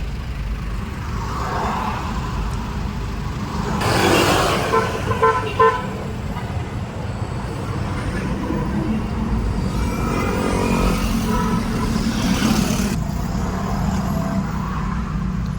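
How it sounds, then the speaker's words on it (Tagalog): Congested road traffic near the Marikina River, with a steady rumble of cars and trucks and a couple of car horns honking clearly in the middle and near the end. "Traffic talaga dito banda guys."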